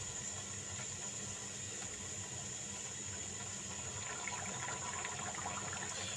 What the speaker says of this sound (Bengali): আমি উল্টে পাল্টে লুচিটাকে ব্রাউন করে ভাজবো।